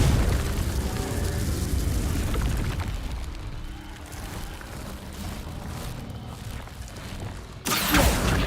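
A Confringo spell explosion in the Hogwarts Legacy video game: a loud, broad blast that rumbles and decays over several seconds, then a second sharp burst near the end, with no voices.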